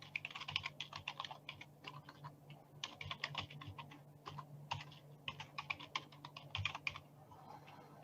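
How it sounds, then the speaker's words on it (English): Keys clatter on a computer keyboard in quick, uneven bursts with short pauses while an email address is entered, close and fairly quiet with no talk. "I'm going to type in my email address"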